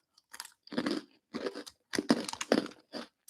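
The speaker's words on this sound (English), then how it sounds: "That's some huge crunching." Loud, close crunching of a black sesame biscuit being chewed, several crisp bursts of bites and chews in an irregular rhythm with short pauses between, no talking.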